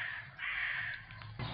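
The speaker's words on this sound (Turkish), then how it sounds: "Kargaları besleme." Crows caw in short, harsh calls outdoors where a cat is being fed, with two bursts of cawing at moderate distance and no talking.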